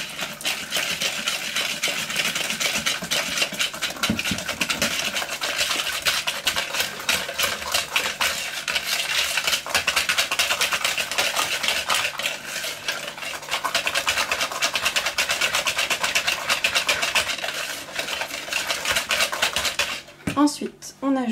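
Eggs being mixed into orange cake batter in a bowl, a steady scraping and clinking of utensil against the bowl that runs nearly continuously and fairly loud, with a voice speaking briefly near the end.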